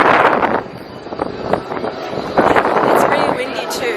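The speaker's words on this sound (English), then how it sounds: "It's pretty windy too." Cold gusty wind blows outdoors in Melbourne city, buffeting the microphone with a steady rough rush that swells in several gusts, with faint voices mixed in.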